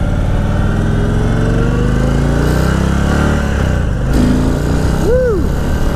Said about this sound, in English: The engine note, the exhaust note, the amount of power, it's all changed in sport mode.